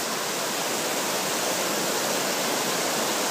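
Steady rush of the Clohesy River flowing out of national park rainforest, a continuous broadband roar of water with no breaks, close and fairly loud, alone without voices.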